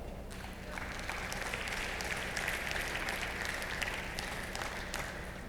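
An audience at a religious lesson bursts into applause, a sustained wash of many hands clapping that swells and holds for several seconds at moderate distance.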